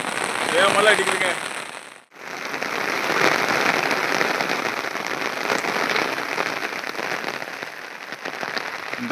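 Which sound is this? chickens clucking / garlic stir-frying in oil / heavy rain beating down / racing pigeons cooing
heavy rain beating down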